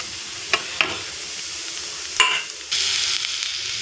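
Grated coconut tossed into a sizzling snake gourd (pudalangai) stir-fry for puttu, with a soft steady fry hiss, a few sharp spoon scrapes against the pan, and a louder sizzle swelling near the end.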